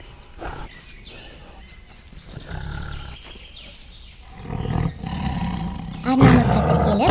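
A tiger roars and growls in rough bursts that build louder toward the end, with chirps and scattered background noises.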